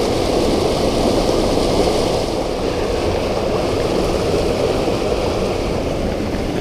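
River water in a shallow creek flows steadily with a dense, even hiss and gurgle, close and constant, with no voices or other sounds.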